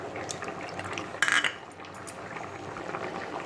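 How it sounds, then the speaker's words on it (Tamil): Tamarind water being poured into a pot of drumstick sambar, a soft, brief liquid splash and trickle heard close up, with faint clinks of utensils in a quiet kitchen. "ஸோ இந்த புளி தண்ணியை வந்து நம்ம வந்து இதில் ஊற்றிடலாம்."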